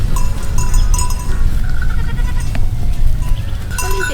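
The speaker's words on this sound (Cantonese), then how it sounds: "羊群出沒注意啊！" Flock of goats or sheep on a mountain hillside during a camping trip, with repeated bleats rising over a busy close background of rustling and movement, and a few sharper tonal calls near the end.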